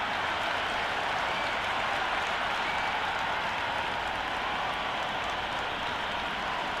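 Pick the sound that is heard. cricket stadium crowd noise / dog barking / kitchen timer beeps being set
cricket stadium crowd noise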